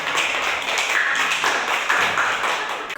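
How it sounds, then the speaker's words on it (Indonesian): Children in a classroom during a prayer lesson clap their hands together, a dense burst of overlapping claps lasting about three seconds with no speech. "Tepuk tangan dulu anak-anak."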